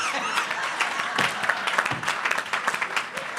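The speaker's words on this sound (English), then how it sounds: "Y'all clap for Apostle Jeanette Taylor." An audience at a community partnership breakfast applauds for Apostle Jeanette Taylor, a steady dense wash of clapping that runs throughout, with some voices mixed in.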